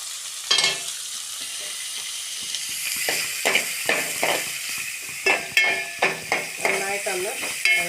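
Chopped onion and carrot sauté in a pan for upma, giving a steady close sizzle with a scraping stir. Spoon strokes rise above the sizzle in quick bursts toward the end, and no one talks.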